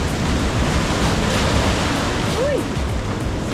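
Big ocean waves crash and wash over coastal rocks along a coastal walking trail, a loud, continuous broadband surf roar with wind noise throughout and a brief whistle-like tone near the end.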